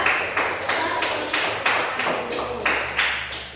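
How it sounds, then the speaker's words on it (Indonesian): Classroom of schoolchildren clapping hands in unison, about ten crisp, evenly spaced claps in a steady rhythm, close and fairly loud, with no talking. "Coba tepuk tangan dulu"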